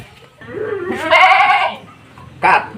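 Etawa goats bleating on a farm, two or three distinct wavering calls, fairly close and loud, with a soft low background hum between them.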